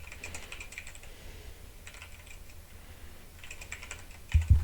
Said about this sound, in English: Well, you typing like crazy.